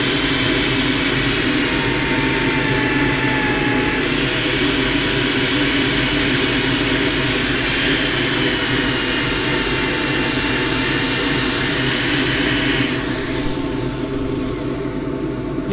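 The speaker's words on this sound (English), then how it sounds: "I can probably go from that coarse grit on the angle grinder to 240 grit" An angle grinder sands a turned wooden bowl with coarse grit on its way to 240 grit, a loud continuous high whine and hiss held steady throughout, easing off near the end.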